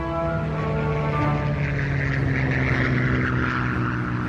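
A British Spitfire reconnaissance plane drones overhead, its propeller engine giving a loud, steady, throaty hum that holds without a break for a few seconds.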